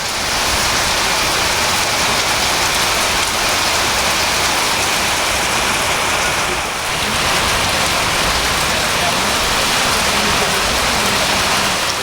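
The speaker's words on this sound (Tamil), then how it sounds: "நீலகிரி மாவட்டம் கூடலூர், பந்தலூர் பகுதிகளில் 2 மணி நேரத்திற்கு மேலாக கனமழை வெளுத்து வாங்கியது." Heavy rain pours steadily over the Gudalur and Pandalur areas of the Nilgiris district, a dense, loud, continuous wash of falling water with no break throughout.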